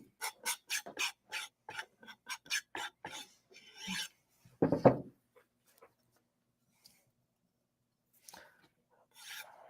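A Santoku knife being stropped, giving a run of about a dozen quick, even rasping strokes, then a couple of slower, heavier drags and a few faint isolated scrapes in near silence.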